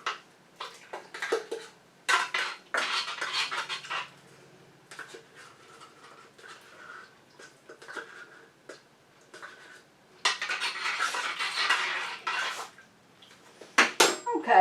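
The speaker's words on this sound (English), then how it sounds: "And I'm going to stir all those in just to make sure they get in there good." Lotion ingredients stirred by hand inside a Magical Butter Machine's metal pitcher, with repeated scraping and clinking bursts of utensil against metal, close and irregular, with no talk.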